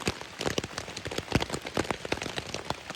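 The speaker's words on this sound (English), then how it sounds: "oh, it's raining." Rain patters on a camping tarp at a wild bikepacking camp, a dense, continuous drumming of close drops with sharper individual taps scattered throughout, and nobody talking.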